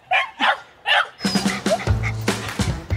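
A pack of schnauzer dogs barking, three sharp yaps followed by a rapid overlapping flurry of barks and yips, close and loud with some whimpering mixed in.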